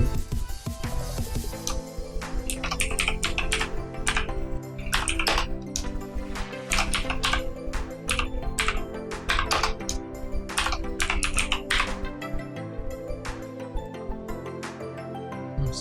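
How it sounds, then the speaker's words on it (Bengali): Rapid typing on a computer keyboard while entering a channel name, dense bursts of clicky keystrokes with brief pauses, close and clear throughout. "এখানে আপনি আপনার চ্যানেলের নাম লিখে দিতে পারেন।"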